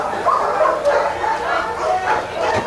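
Police K9 dogs at a training camp bark, yip and whimper in a busy, continuous cluster, fairly close, with overlapping calls and some human voices faintly mixed in.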